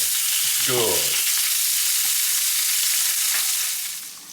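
Bacon and beef fry in a pan with a loud, even sizzle throughout, a brief scrape or rattle near the start, fading slightly toward the end.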